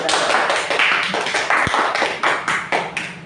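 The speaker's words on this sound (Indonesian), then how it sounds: "Berikan sekali lagi aplaus untuk kelompok 1" Applause for a student group in a classroom: many hands clapping in a dense, steady patter with repeated bursts, sustained loud throughout.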